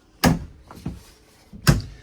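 The bathroom door of a 2026 Forest River Rockwood Ultra Lite 2608BS travel trailer is handled, giving a sharp knock, a couple of lighter clicks, then a second firm thud as it shuts and latches, close by with no speech.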